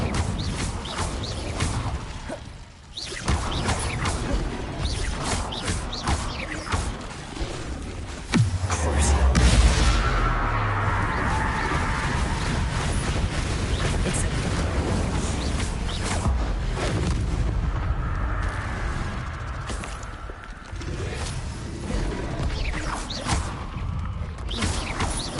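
The Incendio fire spell from a Harry Potter video game bursts out with a deep boom, then a long roaring, crackling rush of flame. Creaks and clatters from the game mix into the steady loud blaze.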